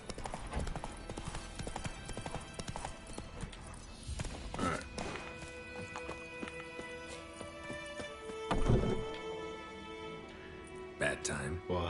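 Horse hooves clip-clopping in the video game The Witcher 3, steady walking hoofbeats under game music and dialogue, with a sharper jolt partway through.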